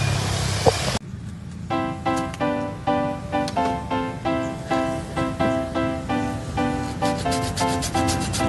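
Fresh fruit is grated for rujak serut at a busy roadside fruit stall, a steady rhythmic rasping of strokes repeating about twice a second after a brief opening noise, close and fairly loud with no talk.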